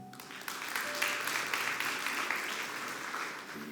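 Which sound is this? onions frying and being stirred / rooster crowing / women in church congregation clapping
women in church congregation clapping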